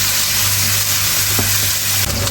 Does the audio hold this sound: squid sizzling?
yes